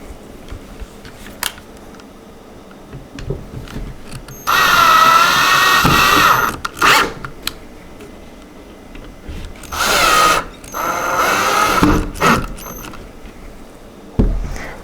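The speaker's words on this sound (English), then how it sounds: "So let's put both of these screws into place." A power screwdriver drives screws into a panel of a Badger Basket upright storage nook, two loud whirring bursts with short pauses and a second run, close and alone with no talk.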